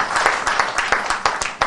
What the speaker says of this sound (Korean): 박수 한번 주시면 좋겠습니다.